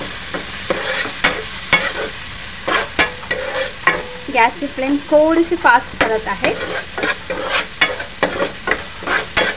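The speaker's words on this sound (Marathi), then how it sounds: "आणि कांदा टोमॅटो हा छानपैकी परतून घेऊया।" Onion and tomato sautéing in a pan for street-style anda ghotala, with close scraping stirs and steady sizzling throughout, and a voice speaking briefly over the cooking.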